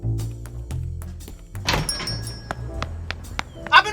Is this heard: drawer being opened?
yes